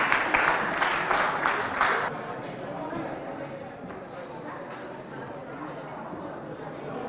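Audience at a school event in Abéché, Chad, clapping and cheering loudly for about two seconds, then fading into a steady murmur of crowd noise.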